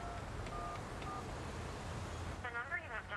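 A telephone number is keyed on a phone in the video game 13 Sentinels Aegis Rim, a quick series of clear DTMF tones over a faint hiss, followed by a synthetic voice beginning to speak.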